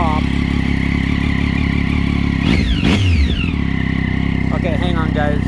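A 2009 Triumph Daytona 675 sport bike with an Akrapovic exhaust revs up close and loud, engine pitch sweeping high then dropping, with short throttle blips at the end over a constant idle drone.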